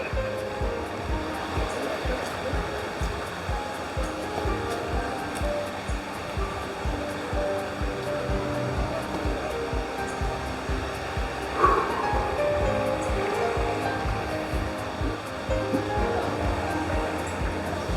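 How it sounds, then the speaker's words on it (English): Steady rushing water fills the whole stretch as a rainforest waterfall and rocky brook pour into a small pool, a constant near wash with a brief splash around the middle. "And there's our waterfall, which is up ahead of us."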